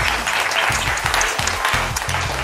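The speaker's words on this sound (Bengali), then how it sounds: "ওনাদের দুজনের জন্য জোরে হাততালি" Loud, steady applause from an audience at a Holi special family game show held in a store, sustained throughout with a low rhythmic musical thump pulsing beneath the clapping.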